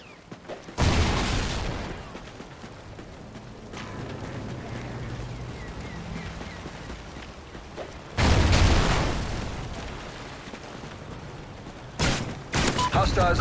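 Thrown IEDs detonating in a wave-based shooter game, with two big booming blasts followed by rumbling decay and a shorter burst near the end, over quieter background game noise.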